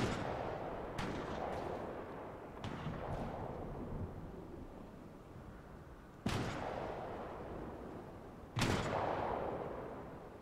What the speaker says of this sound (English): trying to figure out where the gunshots is coming from